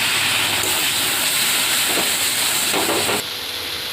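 Masala being fried and stirred in a pan for mutton kosha, a Bengali wedding-style mutton dish, with a steady loud hiss and sizzle that drops slightly near the end, with no talking.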